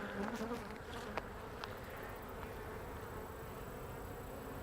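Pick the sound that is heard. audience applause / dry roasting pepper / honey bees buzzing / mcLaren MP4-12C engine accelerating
honey bees buzzing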